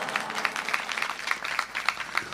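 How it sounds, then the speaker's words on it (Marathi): Audience clapping fills a Marathi kirtan hall, a dense, steady patter of many hands at moderate distance, with no words spoken over it. "त्यांच्यासाठी एकदा जोरात टाळ्या वाजवा."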